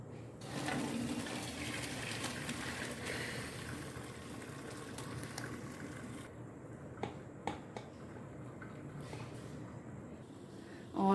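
Boiled rice being strained for keema biryani, a steady broadband rush of hot water pouring and draining for several seconds, easing into quieter trickles and a few light clinks near the end.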